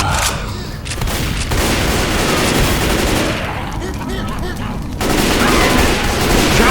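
Sustained rapid gunfire in the Left 4 Dead 2 zombie shooter at a construction site, loud dense bursts with booming blasts, alongside faint voices and game noise.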